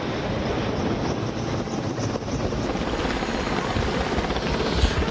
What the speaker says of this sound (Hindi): मुंबई में अगर बात करें तो चारों तरफ जो है सेना के हेलीकॉप्टर और इसके अलावा जो फाइटर एयरक्राफ्ट है उसकी जो उड़ान है